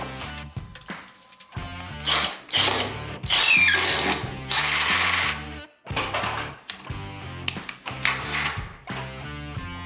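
A tape-fed drywall screwdriver, Makita, DeWalt or Metabo type, tries to drive a 150 mm screw, its motor whining in loud bursts that strain and stall, with clicks and rattles between runs.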